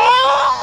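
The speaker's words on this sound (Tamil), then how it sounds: "குழந்தை அழுகுது" Baby crying in a short, loud, close wail that trails off within a second.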